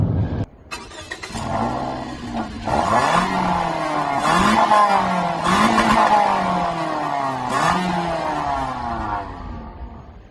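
The engine of a 2014 Toyota Corolla revs repeatedly as it accelerates through several gears, each rising drone falling back at the shift before climbing again. It sounds close, steady and moderately loud, with no talking.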